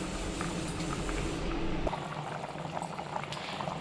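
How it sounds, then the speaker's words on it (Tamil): A pot of mutton kuzhambu bubbles at a vigorous, steady boil, with continuous burbling and popping up close, no voices. "குழம்பு நல்லா கொதிச்சிட்டு இருக்குது"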